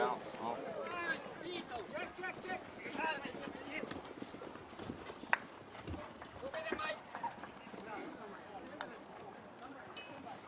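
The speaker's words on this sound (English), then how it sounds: "you can kind of hear the mallet hit the ball. You can hear the horses." Polo horses gallop with rapid clip-clopping hooves, a sharp knock of a polo mallet striking the ball cutting through, with voices in the background during a polo match.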